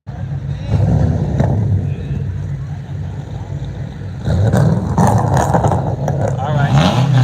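Cars at a street legal dragway roll down the road with engines rumbling and revving, growing louder as they pass, while someone talks over the noise.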